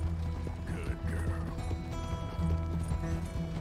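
A horse in the video game Red Dead Redemption 2 neighs and its hooves clip-clop steadily at a fast pace, close and fairly quiet, with faint background game sounds.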